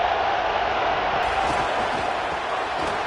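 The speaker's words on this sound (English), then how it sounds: "listen to this crowd noise. This stadium is vibrating" Stadium crowd roar in an EA College Football video game, Maine Black Bears against LSU Tigers, a dense steady wall of cheering that holds at an even loud level throughout.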